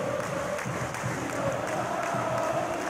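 A stadium crowd in PES 2019 at a Flamengo vs Peñarol match applauds and murmurs steadily in a broad, continuous wash of clapping and cheering.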